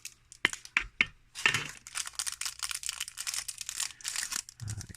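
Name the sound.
crinkling packaging while unboxing a fountain pen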